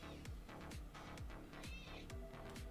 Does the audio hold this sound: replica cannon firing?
no